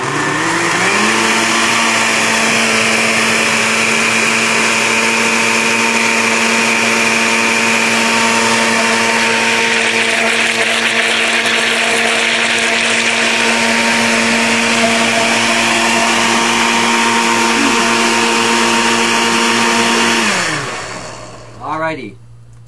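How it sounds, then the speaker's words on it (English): A blender runs steadily for about twenty seconds, mixing garlic with yogurt or kefir. Its motor whine is loud and constant, then winds down and stops near the end, leaving a brief bump. "I'm going to blend this up, so I'm going to make some noise"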